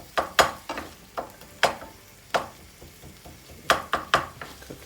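Spicy potatoes frying in a pan at home, with a soft sizzle beneath repeated sharp clinks and scrapes of a utensil stirring against the pan, close and without talking.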